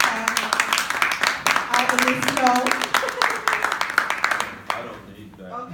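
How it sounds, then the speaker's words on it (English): Audience hand clapping at a community empowerment event in Rochester, a burst of applause mixed with overlapping talk, fading near the end. "let's give him a hand clap"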